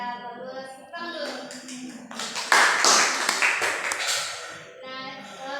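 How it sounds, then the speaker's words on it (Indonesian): Students in a classroom clap together in a short burst of patterned claps, coming between stretches of a teacher talking. "Tepuk dulu."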